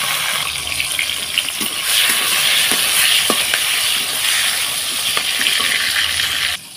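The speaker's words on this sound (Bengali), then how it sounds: "এখানে একটা গোটা টমেটো আর রেখেছি কাঁচা লঙ্কা, দিয়ে দিলাম" A whole tomato and green chillies sizzle steadily in hot oil, with a continuous bright crackle and a few soft stirring scrapes, loud and close, then an abrupt drop at the end.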